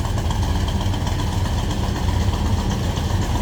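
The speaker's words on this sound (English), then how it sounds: "A little rumble coming out of that 350." A 1955 Chevrolet 150 Handyman wagon with a 350 V8 idles steadily, a low, even rumble holding close and constant throughout with no voices.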